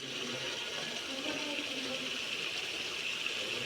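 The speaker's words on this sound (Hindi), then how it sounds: "थोड़ा सा पानी डाल के 5 मिनट तक ऐसे ही पकाएंगे।" Water is poured into a pot of curry as it cooks, a steady close rushing and splashing that holds for several seconds with no talk over it.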